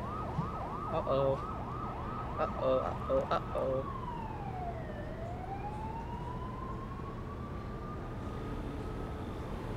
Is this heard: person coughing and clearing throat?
no